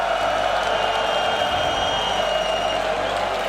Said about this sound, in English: Rotterdam, give us a shout, cheer, if Gen G is a European team.